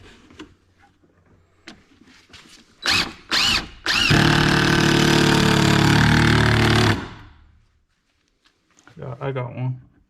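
A power drill with a T30 bit drives long 4 3/4 inch screws into wood for a shipping container barn. A few short whirring bursts lead into a loud, sustained three-second drive, with brief sounds of handling afterward.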